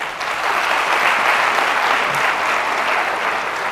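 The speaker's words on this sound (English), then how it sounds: "And may we all clap for all of us." At a guest lecture on communication skills, the audience claps together in a steady, even wash of applause that carries evenly from start to finish with no talk over it.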